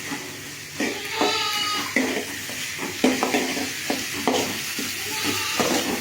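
Green chillies and onions sauté in a pan with mustard seeds and chana dal for a tomato kuzhambu, giving a steady close sizzle broken by repeated scraping stirs.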